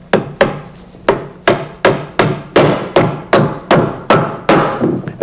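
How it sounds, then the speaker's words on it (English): A hammer drives a nail into wood, a run of about a dozen sharp, loud, evenly spaced blows that come steadily faster and ring briefly after each strike, with no talk. "Drive your nail right in."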